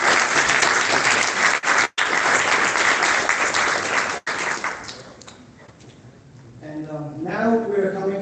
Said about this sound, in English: Ladies and gentlemen, round of applause for these guys